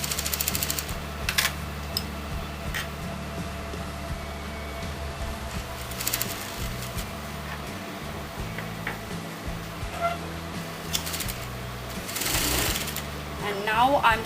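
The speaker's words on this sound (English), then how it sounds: "now I'm sewing on the interfacing and I'm not sewing on the neckline" A sewing machine runs in steady stitching bursts while sewing along the margin of interfacing for a designer collar neckline, loud and mechanical with brief pauses, under a voice talking throughout.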